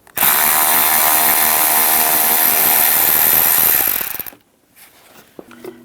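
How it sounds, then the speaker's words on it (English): A power tool with a 6mm socket spins a bolt out of a 1998-2010 Volkswagen Beetle during blower motor resistor removal, a loud steady whirring run for about four seconds that cuts off, followed by faint clicks and handling sounds. "Using a 6mm socket, we're going to take this bolt out."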